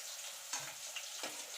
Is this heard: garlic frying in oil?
yes